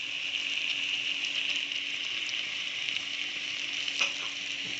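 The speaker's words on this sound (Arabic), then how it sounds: "لازم نخلي اللحمه تتشوح مع الزبده والمستكه وتنزل ميتها خالص" Meat sautés in butter and mastic in a pan, giving a steady, close sizzle and frying hiss throughout, with a faint clink of a utensil near the end.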